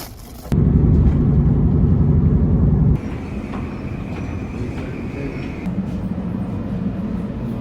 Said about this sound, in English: I gotta take a quick train